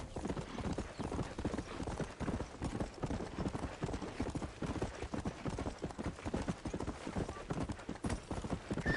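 Horse hooves clip-clop steadily and continuously in Red Dead Redemption's Undead Nightmare, a brisk, close, loud rhythm that lasts the whole stretch with no talk over it.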